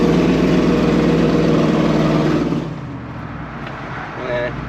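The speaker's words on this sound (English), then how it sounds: "This truck's a little bit louder than the Toyota." An old full-size truck engine drones loudly and steadily as the truck drives, then drops to a quieter, lower hum partway through.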